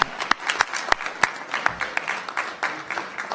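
Thin, scattered hand clapping from a small audience at a county board of supervisors meeting, with individual claps standing out unevenly, fairly quiet, and no talk over it.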